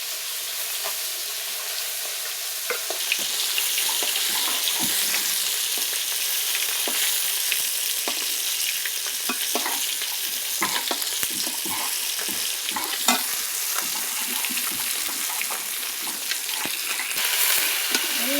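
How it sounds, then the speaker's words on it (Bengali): Fish pieces fry in hot oil in a pan, giving a dense, continuous sizzle with scattered pops and crackles that stays loud and close throughout. "আমি বসে বসে মাছ ভাজছি"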